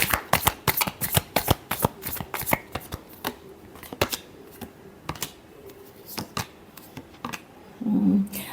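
Tarot cards are shuffled by hand in quick, crisp, close riffling bursts with uneven pauses, ending in a soft muffled thud.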